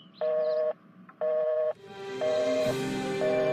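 A dropped phone call gives way to repeated beeping tones, two steady pulses, then a long rising electronic tone with more beeps layered on top, clear and close with no voices.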